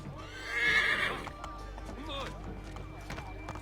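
A horse in Assassin's Creed III whinnies loudly near the start, followed by hoofbeats and movement sounds, with a voice talking over parts of it.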